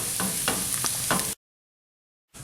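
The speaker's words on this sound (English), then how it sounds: "you want to stir up your onions and your saffron now" Onions and saffron sizzle in a frying pan while being stirred, with a steady frying hiss and a few rhythmic scraping strokes, then a sudden cut to silence.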